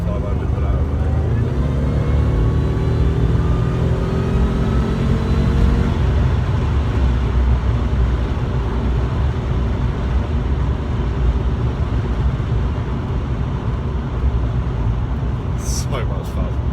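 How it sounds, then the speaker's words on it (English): A Jaguar XJR with a supercharged V8 drones steadily from inside the car, a constant engine hum with rising and falling tones, while someone talks over it throughout. "Hopefully you got the sound of the supercharger, because it's addictive, absolutely addictive."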